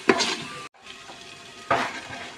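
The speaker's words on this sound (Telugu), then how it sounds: "కొద్దిగా లైట్గా పసుపు, మసాలా బాగా వేయించుకోండి." Turmeric and masala fry in a pan for pulao, a soft sizzle broken by two louder bursts of stirring and a brief pause between them.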